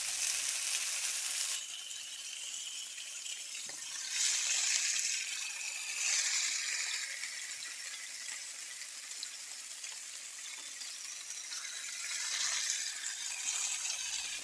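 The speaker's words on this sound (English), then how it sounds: "so it's time to flip the salmon" Salmon fillets sizzling steadily in a hot pan after being flipped, a bright continuous hiss with swelling bursts of crackle, fairly faint and with no talking.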